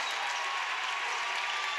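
Home crowd at a high school boys' basketball game in Bryan, Ohio, cheering and clapping after a player's basket, a steady, somewhat distant wash of applause and voices with no one talking nearby.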